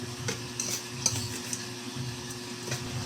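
Food sizzling and being stirred in a noisy electric pan while cooking corned tuna with carrots and eggplant, a steady crackling fry with scraping utensil sounds and clinks, fairly faint and with no talking.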